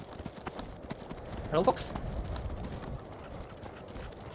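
A horse's hooves clip-clop across rocky ground in Skyrim while someone talks over them, with a brief louder burst of hoof steps partway through.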